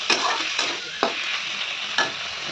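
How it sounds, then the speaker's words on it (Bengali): Shrimp fry with turmeric in a pan over a raised gas flame, and a utensil stirs them in four sharp scraping strokes over a soft, steady sizzle. "এবার গ্যাসের ফ্লেমটা একটু বাড়িয়ে দিয়ে বেশ সুন্দর করে নাড়া দেবো।"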